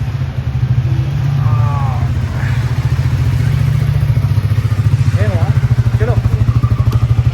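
A Triumph motorcycle engine on a test ride gives a loud, steady, throbbing idle-to-cruise pulse, close and continuous, with people talking faintly over it.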